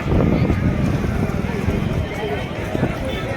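Hooves clip-clop at a running pace during a horse race at the Jasra fair, beneath someone commentating loudly over them, with crowd noise around.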